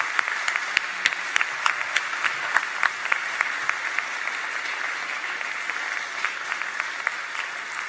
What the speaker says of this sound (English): Graduating class, how about a great big round of thanks and applause for your family and friends.